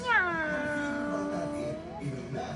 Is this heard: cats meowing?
yes